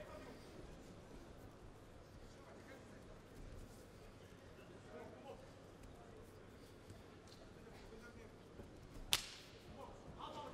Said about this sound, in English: you can hear the slap of that low kick echoing off every single wall here in the Minaj Arena